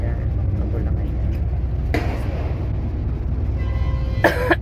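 Harmony gives a short sharp cough near the end, heard over a continuous rumble of road traffic inside a vehicle, with an earlier brief burst of noise.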